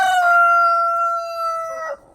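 A single rooster crows once, a loud, close, drawn-out cock-a-doodle-doo lasting about two seconds that ends abruptly, from a backyard chicken flock at the end of the day around roosting time.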